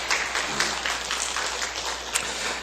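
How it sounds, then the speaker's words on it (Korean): A church congregation claps in blessing after a duet by two women during a worship service, a brief even round of applause at moderate loudness with no voices over it. "박수로 한 번만 더 축복합시다."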